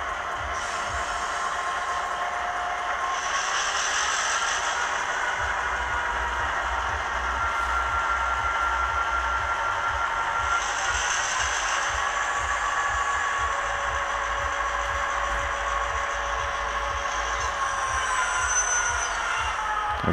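Model railway B class locomotive running on track, a steady continuous rumble and whir with faint high squealing tones throughout, close and even in loudness, with no talking.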